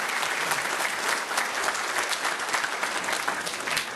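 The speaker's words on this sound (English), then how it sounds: "Give her a round of applause." An audience at a West Covina city council meeting applauds, with dense, even clapping that carries on steadily for several seconds without any voices over it.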